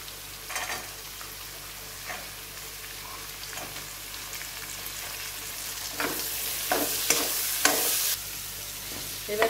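Green peas fry in a hot pan for a mixed potato, egg and cauliflower bhujia, a soft steady sizzle broken by repeated scraping stirs. The stirring grows busier and louder toward the end, with no talk.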